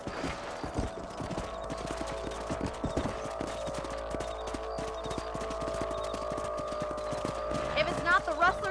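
Horse hooves clip-clop steadily in Red Dead Redemption, a continuous rhythmic trot under in-game ambience and talk, with a brief whinny-like flourish near the end.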